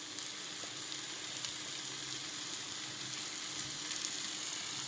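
Chana dal sprinkled into a hot pan crackles into a continuous, even, bright sizzle that holds steady throughout, close and moderately loud, with no voices.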